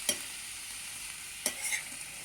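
Cabbage frying in a pan for chutney, a faint, steady sizzle broken by two quick scrapes of a spoon stirring it, close by.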